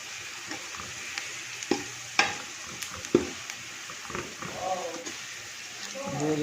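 Cardamom, cloves, cracked dried coriander and cumin fry in hot oil in a pot for vegetable pulao, a soft sizzle with scraping stirs and scattered crackles, close up.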